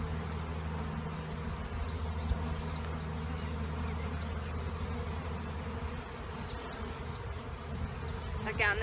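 Honeybees buzzing at an open Langstroth hive during a mite check, a continuous low humming drone close by, steady and moderately faint, with a brief brushing rustle near the end.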